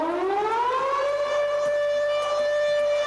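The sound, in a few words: French fire station civil defense siren wailing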